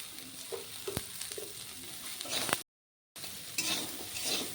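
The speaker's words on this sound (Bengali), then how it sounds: "এখন ধুয়ে রাখা সয়াবিনগুলো আমি ভেজে নেব, এই তেলে দিয়ে দেব।" Washed soybean chunks fry in hot oil with a continuous crackling sizzle and occasional utensil knocks against the pan, close by, broken by a short gap of silence partway through.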